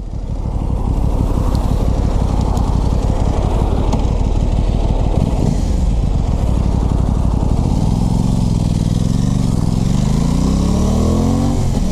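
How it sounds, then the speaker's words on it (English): A 2021 Aprilia Tuono 660 accelerates hard onto a California highway, its engine loud and close, pitch climbing through gear changes with strong wind rush throughout. "Let's see how this little bike does getting onto the highway."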